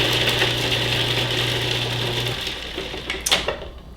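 A food processor's blades whir steadily while mincing garlic, a loud continuous motor drone that cuts off after about two seconds, followed by a few clattering bumps as the machine winds down.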